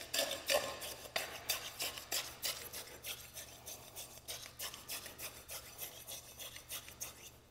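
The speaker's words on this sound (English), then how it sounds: "we're going to rod throughout the depth and penetrate the lift below by approximately 1 inch" A rod repeatedly plunges into fresh concrete in a density measure pot during an ASTM C138 unit weight test, making a steady run of close, rhythmic scraping and rasping strokes, faint and without voices.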